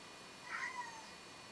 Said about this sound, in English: And there's my cat, if you can hear him.